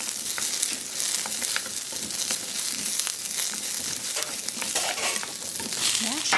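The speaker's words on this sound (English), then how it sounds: "I'm gonna saute this up a little bit" Green vegetables sauté in a pan with a splash of water added to steam them, giving a steady, close hiss and sizzle with scraping stir strokes and light crackles throughout, no talking.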